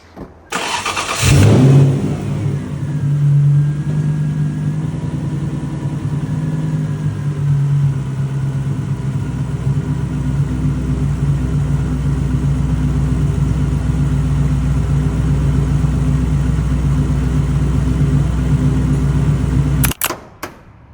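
A Lexus LS400 engine cranks and catches after a mechanic's rebuild, then settles into a loud, steady idle with a faint rise in revs, running close and alone for about twenty seconds before cutting off.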